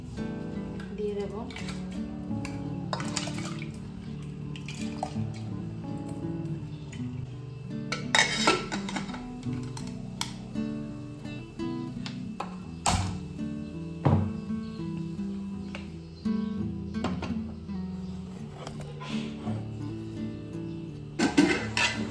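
A large pot for cooking rice being set on a kitchen stove, with metal clanks, scrapes and clinks of pots and utensils scattered irregularly over a steady low background hum, close and moderately loud.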